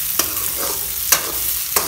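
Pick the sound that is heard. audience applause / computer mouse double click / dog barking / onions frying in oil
onions frying in oil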